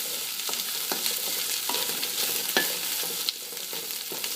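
Dry rice pours and is stirred into a pot of Dominican-style beans with sofrito, giving close scraping and rustling strokes over a steady sizzle-like bubbling, with a few sharper clinks of the spoon against the pot.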